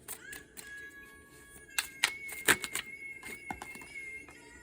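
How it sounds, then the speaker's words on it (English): Tarot cards being shuffled by hand, a run of soft riffling clicks and taps of varying loudness, close and alone with no talk. "I'm going to go ahead and shuffle."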